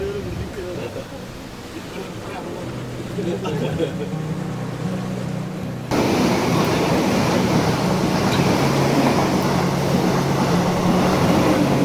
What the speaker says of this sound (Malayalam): രാവിലത്തെ കാസർഗോഡ് വന്ദേ ഭാരത് എക്സ്പ്രസ് ആണ് കേട്ടോ കടന്നു പോകുന്നത്